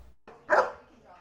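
Rescued dogs at the Palm Springs animal shelter, recovering from a hoarding case, give a single loud bark burst near the middle, with softer dog noises before and after.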